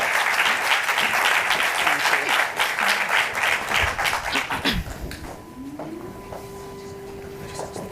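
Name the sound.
audience applause for moderator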